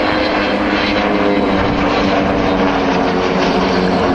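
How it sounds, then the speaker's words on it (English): Avro Vulcan bomber flying slowly at an airshow alongside two small propeller aircraft, a loud, continuous, dense roar of engines and droning propellers that holds steady throughout with no voices. "how easy to handle the Vulcan is. So you can go this slowly to keep position with these two little aircraft"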